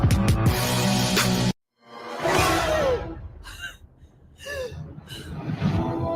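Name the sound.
deep breath during a guided meditation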